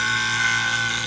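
Fiskars sewing scissors being sharpened on a 240 grit stone, giving a steady, continuous scraping hiss with a faint high whine throughout, close and fairly loud.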